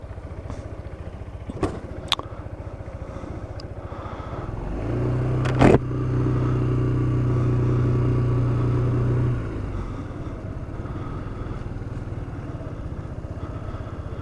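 Yamaha SMAX scooter ridden at night: a steady engine drone holds for several seconds mid-clip after a brief rev and a sharp knock, fading back to low road rumble, with no talking.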